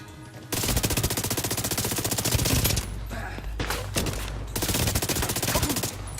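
Sustained sniper and automatic gunfire in the shooter game The Division 2, loud dense bursts of rapid shots with brief lulls, continuous across the whole stretch.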